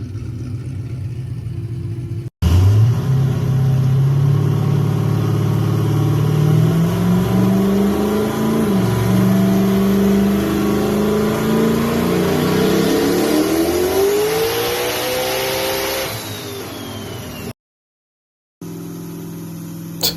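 A car engine on a dyno with an oiling issue idles, then revs in a long loud pull that climbs steadily in pitch before cutting off, followed by a brief dropout and a return to idle.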